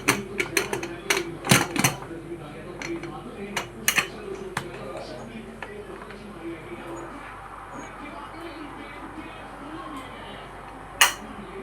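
A pressure cooker cap is fitted onto a pot of half-cooked chicken biryani, with a run of sharp metallic clicks and clanks early on, then quieter handling and one more clink near the end, under a speaking voice.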